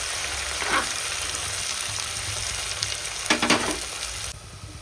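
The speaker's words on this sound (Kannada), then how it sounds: "ಈಗ ಉಳ್ಳಾಗಡ್ಡಿ ಹಾಕಿ ಸ್ವಲ್ಪ ಸೈಡೋಣ ಎಣ್ಣೆ ಒಳಗೆ." Onions fry in hot oil for a North Karnataka style meal maker pulao, giving a steady close sizzle with a couple of brief stirring scrapes and spatters, no talking.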